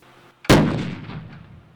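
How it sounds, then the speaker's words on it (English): A single loud detonation set off by a bomb squad EOD team during a demonstration replicating large explosions, with a sharp sudden blast followed by a long rumbling decay over roughly a second. "This is going to be replicating the large explosions that people may hear"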